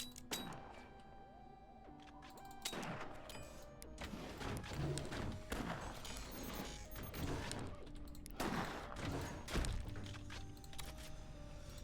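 Sniper rounds fired at enemy turbines in the strategy game Forts crack out in a rapid series of sharp, fairly faint impacts and thuds layered over a low in-game hum, with no talking.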